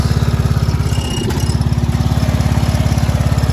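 Steady, loud drone of a Sears Craftsman riding lawn mower's 12 horsepower flathead engine with a Walbro carburetor, running evenly with a fast regular pulse and a brief dip partway through, no talk.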